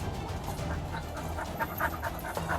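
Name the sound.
dog panting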